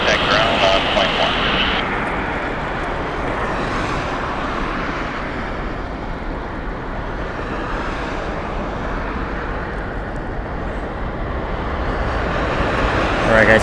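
Spirit Airlines jet taxiing at Las Vegas Harry Reid International Airport, a steady broad engine rumble and whine rising slightly toward the end, with a voice talking and road traffic noise in the background.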